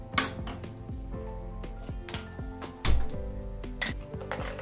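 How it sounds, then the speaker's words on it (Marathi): Yogurt and potato curry sizzling in a pan while a spoon stirs briskly, with repeated metallic scrapes and clanks against the pan over a steady frying hiss, close and fairly loud. "दही घालून गॅस चालू करून पटापट परतवायचं"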